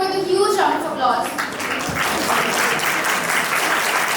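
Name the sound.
audience applause welcoming a speaker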